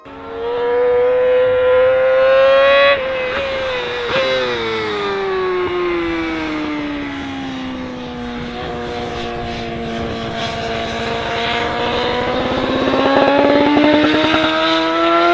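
A BMW HP4 motorcycle engine runs loud and close, a steady high-pitched tone that sags and climbs again as the revs change, with no talking over it.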